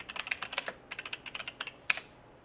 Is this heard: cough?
no